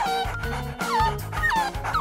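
A puppy barks and whimpers up close, with a string of short yips broken by high, sliding whines that repeat across the two seconds.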